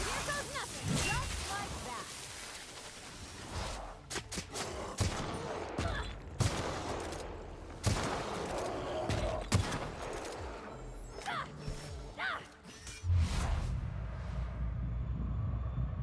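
Repeated gunfire from a firefight in The Outer Worlds video game, with sharp, loud shots cracking at an irregular rhythm throughout, some in quick bursts, over dense background noise and intermittent talking.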